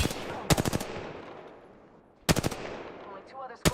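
Video game gunfire in a squad shooter, heard as rapid automatic bursts of four or five loud shots. The bursts are separated by pauses, with a decaying echo after each.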